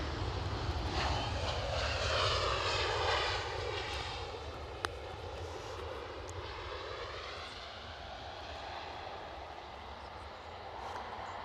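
An airliner lands at Edinburgh Airport, a steady roaring jet engine rumble with a shifting whine that holds loud throughout and slowly eases, with faint voices in the background.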